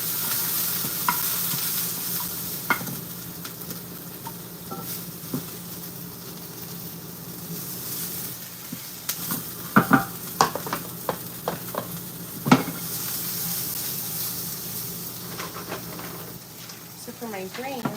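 Mushrooms sizzle in a pan as a steady frying hiss, broken by a few sharp scrapes and clinks of stirring near the middle, with occasional talk over it.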